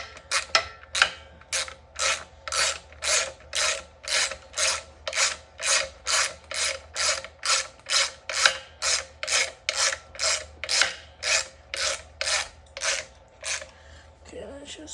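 Ratchet loosening a bolt while installing a Tuttio upgrade kit, about two dozen steady rhythmic clicking strokes, close and clear, running the whole time with no voice over them.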